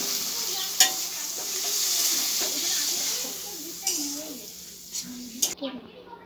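Whisked sour curd being fried and stirred in a pan for doi potol, with a steady close sizzle and occasional sharp clinks of the spoon against the pan, under a soft murmuring voice.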